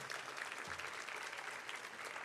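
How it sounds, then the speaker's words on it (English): An audience claps steadily in an auditorium, a dense, even patter of many hands that continues throughout without a break. "Please give these people a round of applause."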